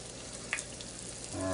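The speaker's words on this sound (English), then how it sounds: "I can hear the pan, it's heated up, ready to go." Fish frying in a hot cast iron skillet makes a faint, steady sizzle with a brief crackle, growing slightly louder near the end.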